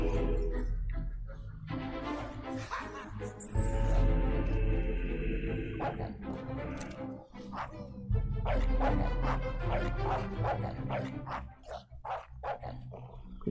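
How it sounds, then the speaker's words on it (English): A dog barks in the video game Fable 3, short repeated yaps over game music and ambient sound, moderately close and mixed with other in-game noise. "Quit your barking."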